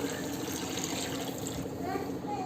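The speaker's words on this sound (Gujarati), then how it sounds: "1 ગ્લાસ પાણી ઉમેરીશું" A glass of water poured into frying masala in a pan while cooking a corn curry, giving a steady hissing, splashing wash that fills the short moment at close range with faint background voice.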